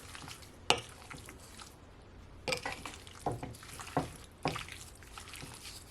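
Black pepper seasoning stirred into raw steak for Jamaican pepper steak: soft, wet squelching and scattered utensil taps against a bowl, close and intermittent.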